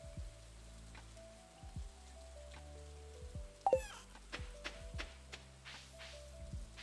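Video game rain: steady pattering under a low ambient hum, with scattered taps and drips and a sharper splashy burst partway through.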